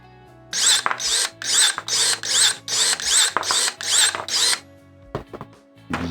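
Cordless battery pruning shears, a Procraft ES28Li or ES32Li, cut through a 12.5 mm apple tree branch with about nine loud, evenly spaced motor whirs close by, then a few faint clicks.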